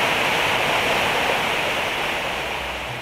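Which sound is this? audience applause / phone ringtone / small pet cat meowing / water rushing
water rushing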